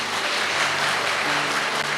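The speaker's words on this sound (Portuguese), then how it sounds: "então responda com uma salva de palmas" A church congregation bursts into applause welcoming a newly baptized member, dense, continuous clapping from many hands filling the room at even loudness throughout, with no talking over it.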